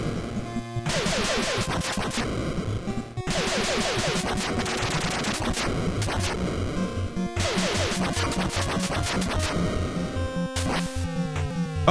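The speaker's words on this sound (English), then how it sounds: "Now we're shooting." Rapid bursts of gunfire from Final Fantasy play as dense, rhythmic, chiptune-like volleys in long repeated stretches, loud and busy with no talk.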